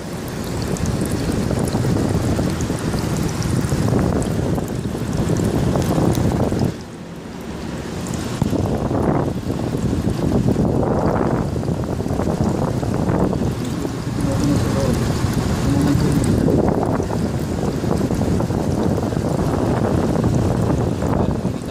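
Water gurgles and sloshes inside a window-type air conditioner's evaporator, a steady loud rushing wash with a brief dip midway, running under a voice talking close by.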